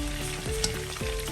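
Sliced onion sizzles loudly in hot oil rendered from pork ribs, a dense continuous frying crackle with a few stirring scrapes, close up and with no talking.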